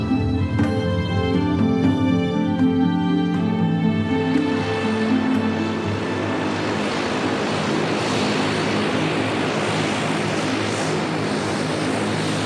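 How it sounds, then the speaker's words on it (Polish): Propeller airplane engine at Resolute Bay in the Arctic, a loud close drone with a strong tonal hum that broadens into a steady roaring rush, continuous throughout with no voices. "To tutaj na pokład samolotu wsiadają naukowcy, którzy przyłączą się do Pascala Lee i jego zespołu."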